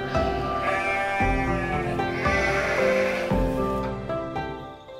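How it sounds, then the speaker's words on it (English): Sheep on rolling green hills in New Zealand bleat repeatedly and close by. Several overlapping calls follow one another with no pause, and no one speaks. "The surrounding scenery consists of rolling green hills and lots of sheep."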